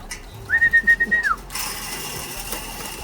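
Hungry racing pigeons at feeding time: a steady, wavering whistle rises briefly, then gives way to a continuous soft rustling and scattering hiss nearby.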